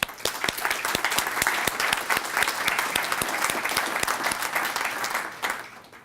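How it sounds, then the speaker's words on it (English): A conference audience at a cartography event claps in a full, lively burst. Many hands beat fast and even with sharp individual claps standing out, sustained at a strong level before dropping off near the end. "A round of applause, please."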